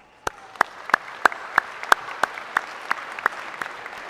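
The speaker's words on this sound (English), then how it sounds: "Please join me in thanking them in gratitude by a round of applause." Sharp, evenly spaced claps ring out about three per second at a high school graduation, a slow steady beat of hand clapping that builds slightly in loudness.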